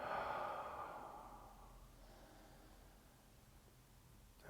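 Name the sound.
deep exhalation during yoga relaxation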